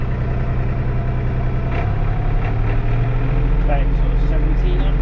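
A tractor engine runs steadily, driving a grain mill through the PTO on a farm, a loud continuous low rumble that shifts slightly in pitch partway through.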